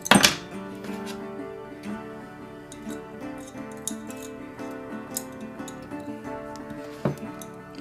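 A field-stripped Magnum Research Desert Eagle Mark XIX pistol being put back together, heard as scattered close metallic clicks, snaps and sliding scrapes of parts fitting together, fairly quiet.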